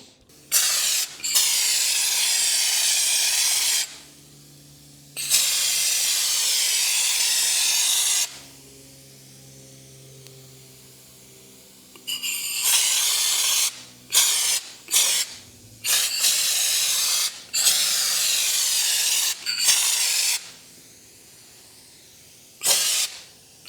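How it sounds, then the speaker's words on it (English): Repeated bursts of loud pneumatic spraying hiss from an air-powered gun applying rock guard coating to a truck bedside, each lasting a few seconds with short pauses, then quicker short blasts later on. "This has a little gun that you can just hook to your air hose"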